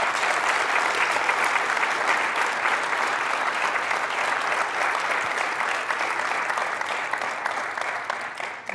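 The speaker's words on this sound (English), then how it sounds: "Let's offer a huge round of applause for Dr." A medical audience at a children's hospital event breaks into steady, dense applause that holds evenly for several seconds, close and loud, and tapers slightly at the end.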